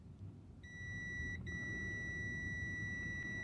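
A multimeter held on a pin of a Lexus ES300 ignition switch turned to the crank position gives a steady, clear continuity beep that starts after half a second, drops out for an instant, then holds over a low background rumble.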